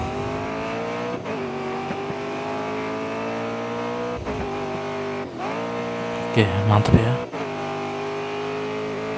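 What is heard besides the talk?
race car driving fast in the video game GRID Autosport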